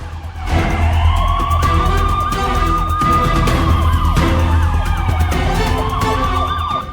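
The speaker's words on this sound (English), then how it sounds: "And then, more sirens, more lights." Loud wailing police sirens sweep up and down continuously, several overlapping, with traffic rumble beneath.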